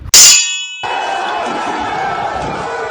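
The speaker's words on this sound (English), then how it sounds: "they stormed up the street and they attacked," A loud metallic clang as soldiers crash into a barricade in a street battle of 1455, ringing briefly before it gives way to a sustained roar of fighting and crowd noise.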